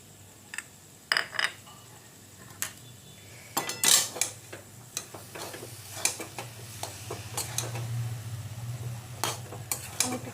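Potato filling for egg chops being stirred with chopped coriander leaves, a spoon clinking and scraping against a metal pot in scattered taps and scrapes over a low background hum.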